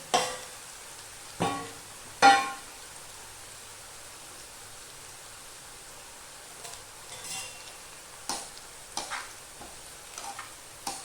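Garlic and papad hit hot oil and sizzle, with a few sharp bursts early on and then a quiet, steady frying hiss. Occasional soft stirring clicks follow.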